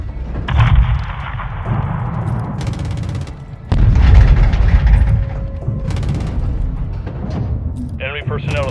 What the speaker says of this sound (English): Them boys got mortars.